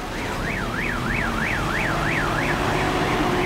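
Vehicle siren wails with a fast rising-and-falling whoop, repeating steadily and loudly as its battery runs down, over constant low noise.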